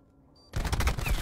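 Gunfire in a competitive first-person shooter match, someone shooting through a wall: after a brief quiet, a dense burst of rapid automatic shots erupts loud and close, with no talk over it.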